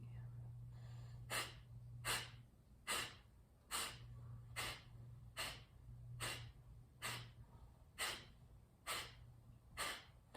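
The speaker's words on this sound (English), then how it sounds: "with our next exhale, we'll begin to push forcefully and compressing quickly" Forceful pumping exhales from a breathing exercise, about a dozen sharp breathy bursts in a steady rhythm close to the listener, with a low hum underneath.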